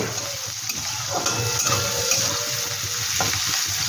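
Capsicum sizzles in hot oil in a pan while being stirred for a cauliflower chilli, a steady close frying hiss with occasional scraping stirs and no talk.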